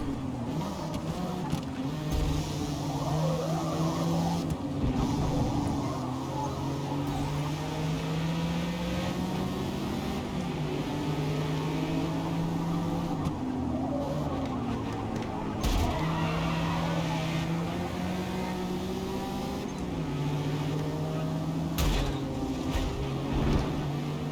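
A Honda NSX racing in Forza Motorsport, a continuous engine drone that rises and falls with gear shifts, tyre noise and other cars around it, steady and moderately loud.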